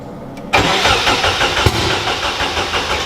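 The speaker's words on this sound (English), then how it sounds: "preparing to turn this thing over. See if it fires up." A car engine cranks steadily after a sudden start, the starter churning in a dense, even, rhythmic drone close by without catching, with no talk over it.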